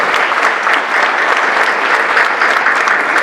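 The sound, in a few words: audience applause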